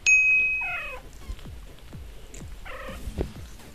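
A mother cat and her premature newborn kitten meowing, two separate drawn-out, wavering cries rising close by, with soft rustling and light taps between them.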